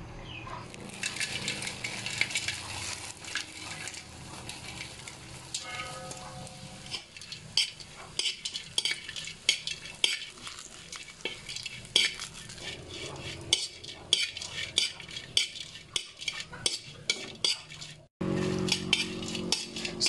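Dried lupoy fish frying in a little oil in a pan, with steady crackling sizzle and frequent sharp clinks of a utensil against the pan, close and fairly quiet throughout.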